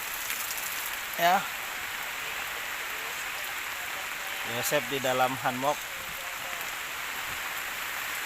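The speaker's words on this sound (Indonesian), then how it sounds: "hari hujan" Steady rain falls throughout at an Indonesian riverside camp during an overnight flood, a constant hiss with people speaking briefly over it.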